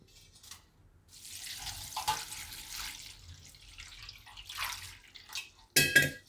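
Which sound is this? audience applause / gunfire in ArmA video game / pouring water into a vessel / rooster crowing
pouring water into a vessel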